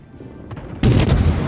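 A heavy cruiser USS Pensacola fires armor-piercing shells in a naval battle game, a single loud booming blast bursting in abruptly after quieter rumble and sustaining briefly.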